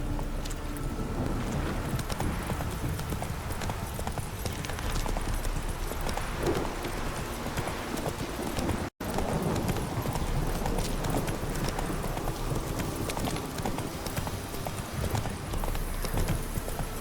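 Hooves of the horse Roach in The Witcher 3 video game, steady rhythmic clip-clop of a trotting horse with a brief dropout partway through, close and continuous.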